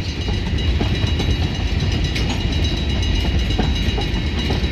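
A long freight train of tank cars rolls past on a railroad, a steady loud rumble of wheels with faint rhythmic clicking over rail joints, continuous and close for the whole stretch with no voices.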